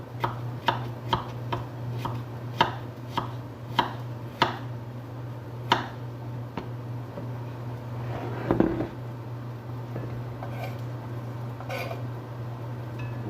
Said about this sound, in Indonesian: Selesai semua kita potong-potong